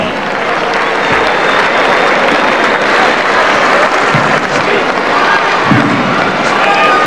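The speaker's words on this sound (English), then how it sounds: "can we have a big round of applause for Bill Palmer, the General Manager of the NBL" Sustained crowd applause fills an arena at a 1993 NBL Finals basketball game between the Perth Wildcats and Melbourne Tigers, loud and steady throughout with scattered cheers and a few low thumps.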